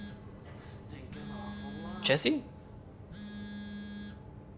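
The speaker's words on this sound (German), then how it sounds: "Mein Handy klingelt schon wieder." A mobile phone rings in the underwater sci-fi horror game SOMA, with two electronic buzzing ring bursts separated by a pause. A voice speaks briefly between them.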